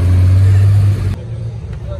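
A Dodge Challenger SRT, an American muscle car, gives a deep, loud engine roar that holds steady for about a second before cutting off, leaving quieter street noise and people talking at an outdoor car gathering.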